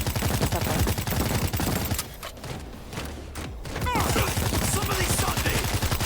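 Rapid bursts of gunfire in the zombie shooter World War Z, dense and loud for the first two seconds, thinning out briefly, then resuming as sustained automatic fire.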